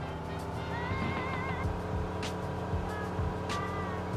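A Diamond DA20-C1 light aircraft engine, simulated in Microsoft Flight Simulator, drones steadily and loudly with a layered, buzzing hum. A faint rising tonal whine drifts over it, and a few soft whooshes surface now and then.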